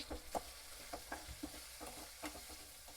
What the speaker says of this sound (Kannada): ಹಸಿಮೆಣಸಿನ್ಕಾಯಿ ಹಾಕಬೇಕು ಮತ್ತು ನಾವು ಉಳ್ಳಾಗಡ್ಡಿ ಹಾಕೋಬೇಕು ಉಳ್ಳಾಗಡ್ಡಿ ಹಾಕೊಂಡು ಚೆಂದಾಗ ಫ್ರೈ ಮಾಡ್ಕೋಬೇಕು